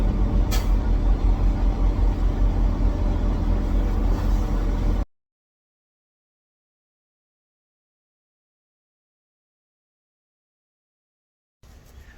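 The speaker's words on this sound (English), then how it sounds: "all I gotta do is slide my tandems and back into this dock" A semi truck sliding its tandems and backing into a loading dock, with a loud, steady rumble of engine and air for about five seconds, then sudden silence before a brief return of noise at the very end.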